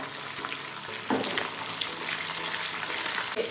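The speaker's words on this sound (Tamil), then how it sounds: "வெங்காயம் ரெண்டு நிமிஷத்துக்கு வதங்கட்டும்" Sliced onion and peeled garlic cloves sizzling in hot oil in a pan, a steady close frying hiss with brief stirring scrapes and no talk.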